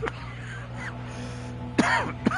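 A football broadcast commentator coughs twice into the microphone, two short, sharp, close bursts near the end over a faint steady studio hum.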